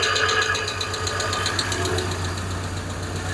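An idling engine with a steady, fast metallic ticking knock from one faulty lifter running over the low rumble, close and continuous.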